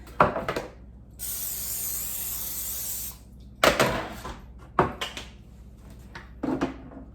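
Cooking spray greases a small cookie sheet in one long hissing burst of about two seconds, with short clattering knocks of the can and tray before and after.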